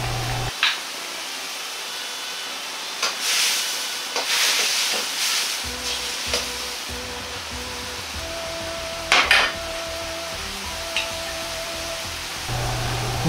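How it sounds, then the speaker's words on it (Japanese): Taro and chikuwa simmer over high heat in an oyster sauce broth, a steady close hiss and bubbling sizzle running throughout with a few louder sputters and faint clinks. "このまま強火で1分くらい煮ていきます。"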